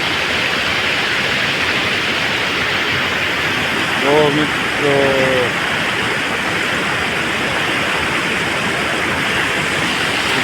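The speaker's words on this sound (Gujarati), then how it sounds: "પાણી તો ચાલુ, અખંડ ચાલુ જ છે પાણી." The Keri river flows in a loud, steady, broadband rush of water close by. Someone speaks briefly over it midway.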